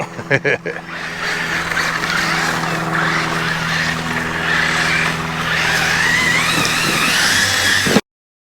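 A Traxxas X-Maxx 8S RC truck running, with a few short bursts and then a sustained high electric whine that rises and falls steadily, close and loud, cutting off abruptly.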